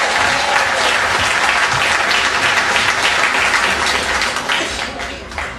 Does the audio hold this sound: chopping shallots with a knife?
no